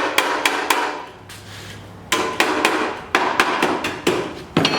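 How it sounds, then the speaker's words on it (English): Rapid hammer taps on sheet metal come in quick bursts of ringing clinks, close and bright, pausing briefly before resuming in a steady rat-a-tat rhythm. "I'm finesse tapping this thing, rat-a-tat."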